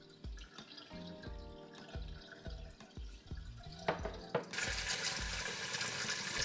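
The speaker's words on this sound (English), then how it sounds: "I rinse the rice several times, changing the water till the water looks somewhat clear." Brown Spanish rice rinsed under a running kitchen tap, irregular drips and splashes landing in water, then a steadier hiss of flowing water fills the sink toward the end.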